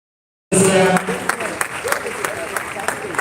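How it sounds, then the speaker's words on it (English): A round of applause from an audience at a pastors' peace forum bursts in suddenly after a short silence, loud at first and then settling into steady clapping with a few sharper individual claps. "Please let's give him a round of applause."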